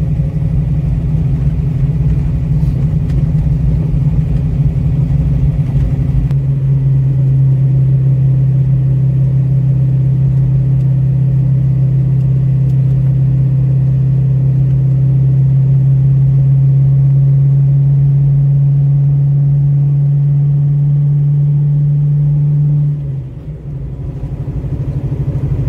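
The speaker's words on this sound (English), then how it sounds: "now we're cruising down a gravel driveway, as you can see, and 1400 RPMs, no bucking" A Fox Body Mustang with a big cam and Pro-M EFI rumbles steadily at about 1400 RPM while cruising down a gravel driveway, a loud, even low drone that holds smoothly before easing off near the end.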